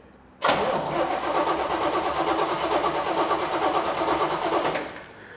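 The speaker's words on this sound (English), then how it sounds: "please crank the engine" A 1967 L89 engine cranks without catching, a steady, loud whirring churn running about four seconds before cutting off, with no voices.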